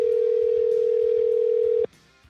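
A steady single-pitch telephone tone sounds for about two seconds, then cuts off abruptly, leaving a faint hum.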